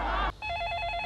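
A telephone rings loudly and close by with a rapid trilling bell tone that starts abruptly after a short burst of other sound, in a Hindi comedy scene.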